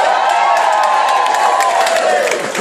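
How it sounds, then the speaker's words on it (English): A loud audience cheers and whoops for the good fathers at a Father's Day show, a dense, continuous roar of crowd voices with some clapping, easing slightly at the very end. "And an even bigger cheer for all the good fathers in the house."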